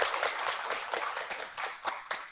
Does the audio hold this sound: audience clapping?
yes